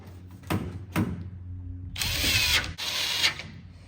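Power driver running screws back into the taillight housing of a 2014-2018 Chevy Silverado pickup: two short whirring bursts, then two longer driving runs with a ratcheting clutch click at the end, close and clear.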